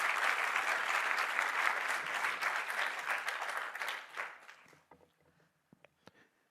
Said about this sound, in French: On va l'applaudir parce qu'elle est un peu stressée.